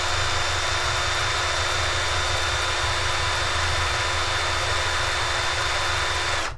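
RC brushless motor, previously hit by a rotor failure, spins at steady high speed on a test bench, giving a continuous loud whine with a faint tonal hum that holds evenly before cutting off abruptly at the end.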